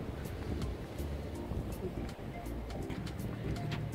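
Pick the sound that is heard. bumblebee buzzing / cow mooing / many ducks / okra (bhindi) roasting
many ducks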